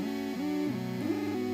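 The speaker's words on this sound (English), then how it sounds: "what you're hearing is the output of 3 analog oscillators" Three analog oscillators patched through a Eurorack quantizer give a buzzy, harmonically rich synth tone that steps between pitches in a short stepped melody, clean and alone.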